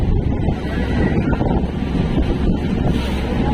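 Strong wind buffets the microphone over the steady roar of rough, high sea waves from a boat at sea, loud and continuous throughout.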